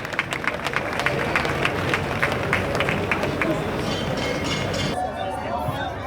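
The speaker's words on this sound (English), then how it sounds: "A round of applause for our private sector clientele." Crowd applause for private sector clients at a Morant Bay Urban Centre event in St. Thomas, a steady wash of many hands clapping with scattered voices and crowd murmur, fairly loud and continuous throughout.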